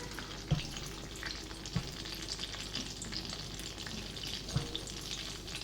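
Finely chopped garlic sautés in melted butter for a creamy mushroom soup, giving a soft, steady sizzle broken by three sharp knocks of stirring, with no voices.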